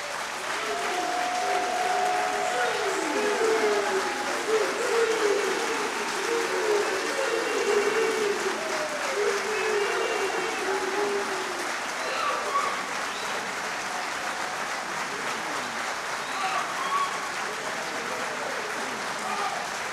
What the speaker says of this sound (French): vous pouvez applaudir chaudement Monsieur le Premier ministre.